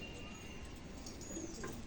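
A female pigeon coos softly in a loft, a faint low murmur over steady background hum.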